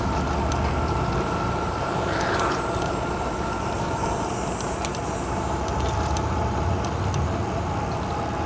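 A truck rumbles past on a road beside Toronto's waterfront trail, a steady low drone heard from nearby with faint clicks and ticks over it.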